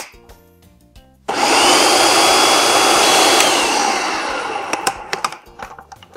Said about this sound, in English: I'm going to blend that and see how creamy it is.